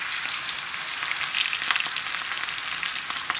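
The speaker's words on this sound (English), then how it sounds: "I'm going to go ahead and lay my steaks inside my cast iron skillet." Steaks frying in butter and oil in a cast iron skillet, giving a loud, continuous hissing sizzle that holds steady from start to finish with no voices over it.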